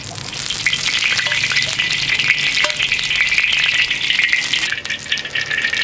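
Oil heats in a wok ahead of salt-and-pepper shrimp, giving a loud, steady hiss and crackle of frying with scattered pops throughout, close and continuous, with nobody speaking.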